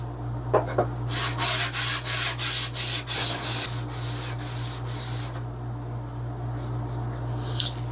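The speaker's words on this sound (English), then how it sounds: "I'm just going to continue to do that until all that rust is off, and then I'm going to hit it with the 400" Sandpaper rubbing back and forth over the steel of a spokeshave to strip surface rust, about nine strong, evenly spaced strokes close by, then quieter scraping and a faint hum underneath.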